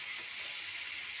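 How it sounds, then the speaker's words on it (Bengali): Fried potato and pointed gourd sizzling in spice masala in a pan, with a steady, close, hissing fry noise and no talk. "এরপরে ভেজে রাখা আলু পটল দিয়ে দেবো। আলু পটলটা দিয়ে ভালোভাবে একটু কষিয়ে নেব।"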